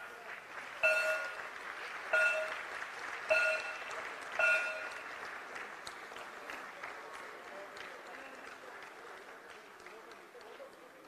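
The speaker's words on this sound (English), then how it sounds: "So the applause also has to be louder." Applause from the audience at the Amaravati Bonds listing ceremony at the Bombay Stock Exchange swells in four bursts and then settles into a steady, moderately distant patter that continues to the end.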